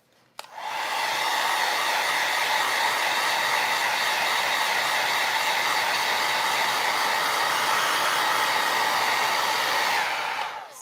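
A hair dryer blows steadily to dry a transfer applied to a piece of furniture, a loud, continuous whooshing drone starting abruptly and running without pause until it cuts off.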